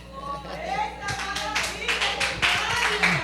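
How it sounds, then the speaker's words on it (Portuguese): Church congregation clapping in praise, a burst of applause building from scattered claps into rapid, dense clapping, heard alongside a voice speaking over it. "Aplaudo o Senhor Jesus Cristo"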